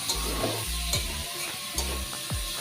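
Cumin and chili paste masala sizzling in a pan while a spoon stirs it, with steady low frying hiss broken by repeated scraping strokes about every half second, close and fairly quiet.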